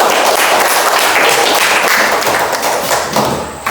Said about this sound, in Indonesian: Baik, tepuk tangan dulu.